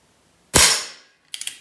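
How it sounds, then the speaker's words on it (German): Umarex Legends SAA .45 Colt single-action air revolver firing outdoors while emptying its cylinder: one loud, sharp crack with a short decaying tail, then a fainter quick cluster of three snappy reports, no talking. "Wir machen jetzt noch eine Trommel leer."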